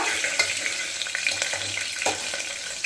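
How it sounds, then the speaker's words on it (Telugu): Cut green chillies fry in hot oil in a pan for mutton dum biryani. A dense, constant sizzle runs close by, with light scraping stirs and no talk. "మనం ముందుగానే కట్ చేసుకున్న 4 పచ్చిమిర్చి, పచ్చిమిర్చి కూడా ఫ్రై అయిన తర్వాత"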